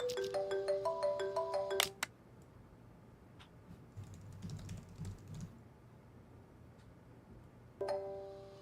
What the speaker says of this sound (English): Kint's phone rings.